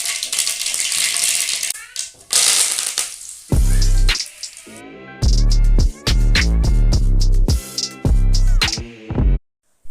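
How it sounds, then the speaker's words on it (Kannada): Mustard seeds and curry leaves hit hot oil in a pan, giving a loud, crackling sizzle that comes in bursts with sharp pops and short gaps, then cuts off abruptly. "ಒಂದು ಬಾಣಲೆಗೆ ಸ್ವಲ್ಪ ಎಣ್ಣೆ ಹಾಕಿ, ಎಣ್ಣೆ ಕಾದ ನಂತರ ಅದಕ್ಕೆ ನಾವು ಸ್ವಲ್ಪ ಸಾಸಿವೆ, ಕರಿಬೇವಿನ ಸೊಪ್ಪು"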